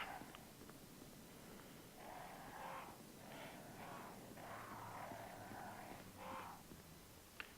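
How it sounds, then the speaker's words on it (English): Crows caw repeatedly in the Resident Evil HD video game, a series of harsh, rasping calls in uneven bursts over a steady hiss of background ambience. "Let's just run past all the crows."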